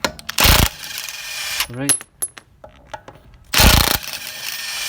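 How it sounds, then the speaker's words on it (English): A cordless Makita DTW1002Z impact driver hammers in two loud, buzzing bursts, with sparse speech and clicks heard between them. "Make sure the impact's on the right way around, and let's go."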